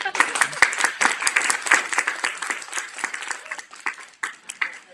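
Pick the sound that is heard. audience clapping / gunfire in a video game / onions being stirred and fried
audience clapping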